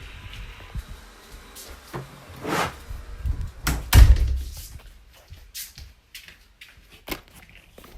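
Several bumps and handling noises lead to a solid thud of a door being shut nearby, followed by a few softer knocks and rustles.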